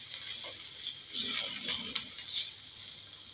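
Chopped onion frying in about a teaspoon of oil over a medium flame: a soft, steady sizzle with faint scraping and stirring, close and moderately quiet, with no talking.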